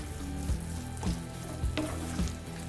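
Chicken handi ingredients sizzle in a pan while a spoon stirs and mixes them in a steady rhythm, with soft scraping knocks about every half second.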